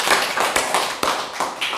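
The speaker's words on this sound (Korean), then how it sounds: "박수로 하나님께 영광을 돌리기 바랍니다" A church congregation claps in a brisk, uneven patter with a few sharper slaps standing out, fairly close and continuous for a couple of seconds, with no talking over it.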